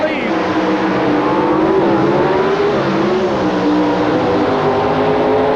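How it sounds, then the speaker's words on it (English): Drag racing engines rev at the start line at the 1988 US Nationals, a loud, sustained snarl whose pitch rises and wavers as the RPM builds, under a commentator's voice. "Lots of RPM building in these engines as the 2 drivers get ready to leave."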